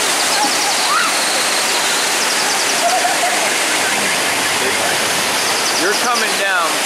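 Theme park flume boat ride rounding a turn, with water rushing and splashing steadily and loudly throughout, a constant wash of spray with faint voices in the background.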